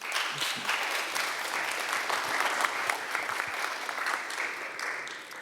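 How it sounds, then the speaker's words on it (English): An audience applauds a panel warmly and continuously, a dense wash of clapping from many hands that holds steady before easing slightly at the end. "a big applause for the panel"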